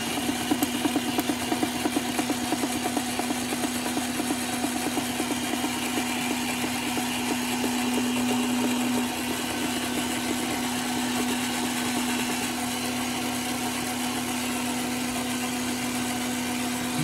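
A slush machine runs with a steady motor drone and a constant mechanical hum, close and continuous, with slight shifts in its tone midway.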